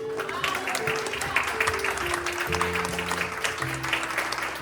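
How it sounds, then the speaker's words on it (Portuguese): A church congregation at an Assembleia de Deus service claps steadily in praise while sustained organ or keyboard chords ring underneath, moderately loud and continuous throughout. "Uma grande salva de palmas para Jesus."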